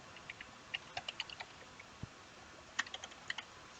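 Keys clack on a computer keyboard as details are entered into an online permit payment form, a quiet, irregular run of close clicks in separate bursts with short pauses.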